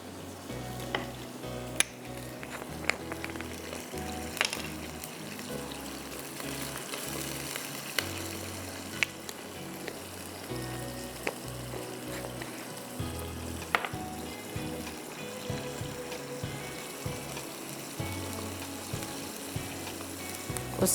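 Seasonings and half a cup of water go into a hot biryani pot, bringing a continuous, moderately loud sizzle and bubbling, with occasional metallic clinks and stirring scrapes through the stretch.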